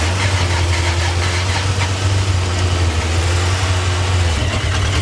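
Honda 600 Transalp motorcycle engine struggling to start with jump cables, a loud, steady low drone with a rough, knocking texture that shifts near the end as it catches or falters.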